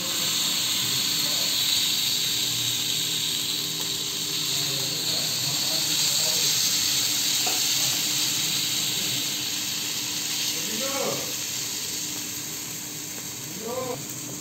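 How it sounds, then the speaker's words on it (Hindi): Batter made from leftover rice pours into hot oil in a pan and sizzles, a steady loud hiss with small crackles and a few scraping touches, no talking over it. "तो तेल हमारा गर्म हो गया है, अब हम डालते हैं इसको जो हम वेटर बना के रखे हुए हैं।"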